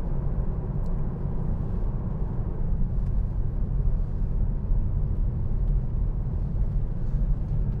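Inside a moving 2012 Hyundai i40 1.7 CRDi Premium diesel, a steady low road-and-engine rumble runs throughout with an even cabin hum and a few faint clicks, and no one talks.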